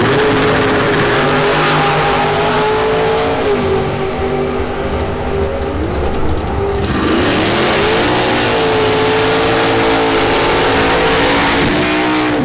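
A dragster launches down the drag strip at a bracket race, a loud engine roar with revs climbing, dipping, then surging again as the car pulls away, steady and close throughout.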